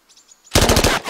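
Machine gun fire in the video game Achtung Cthulhu Tactics: a quiet lead-in, then a loud, close burst of about six rapid shots that ends in a short tail.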